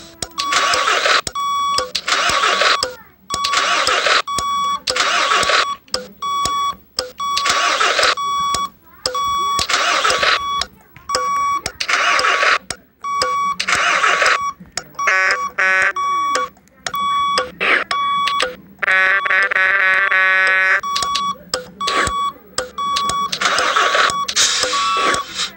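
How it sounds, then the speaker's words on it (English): A car engine cranks repeatedly without catching, rhythmic starter churning in loud bursts separated by short pauses, with a steady electronic beep tone running through and a rapid chiming warning near the end. "Let's hear that engine trying to start up."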